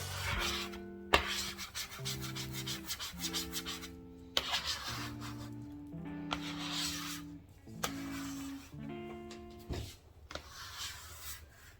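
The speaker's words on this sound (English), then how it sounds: "The nice thing is that the bench scraper will not damage your countertop." A bench scraper drags across a kitchen countertop to lift off dough, making repeated close scraping strokes in short bursts separated by brief pauses, with no talking.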